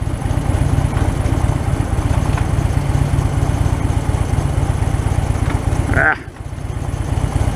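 A 2016 Harley-Davidson Fat Bob idles close by with a steady, loping low rumble that holds evenly throughout, briefly dipping before settling back into the same idle.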